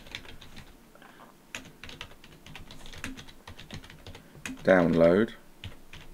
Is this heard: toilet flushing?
no